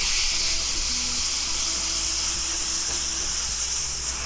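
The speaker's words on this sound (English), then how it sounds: "So now I'm cooking the meat." Beef ribeye steak for a Philly cheesesteak frying in a pan, a loud, continuous hissing sizzle that stays steady and close throughout, with no voices.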